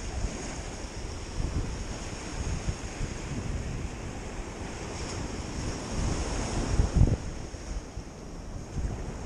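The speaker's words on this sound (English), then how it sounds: "The waves run me off of it." Ocean surf rolls onto a bay beach in a continuous wash of breaking waves mixed with buffeting wind noise on the microphone, with no voices.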